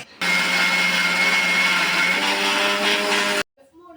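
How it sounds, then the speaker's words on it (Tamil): A kitchen mixer grinder runs loud and steady for about three seconds, blending soaked raw rice and leftover cooked rice into a batter, then cuts off sharply. "இப்போ நம்ம அரைக்க போகிறோம் ஒரு மிக்சி ஜாரில் கொஞ்சமாக நம்ம எடுத்து வச்ச அந்த பழைய சோறு அரிசி ரெண்டையுமே ஒன்றாவே கலந்து நம்ம அரைச்சி எடுத்துக்கிறோம்"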